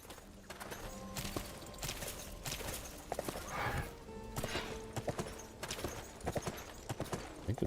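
Horse hooves clip-clop in the video game Sacred 2, with a steady run of soft, repeated footfalls layered under game music and ambient effects, and occasional sharper hits.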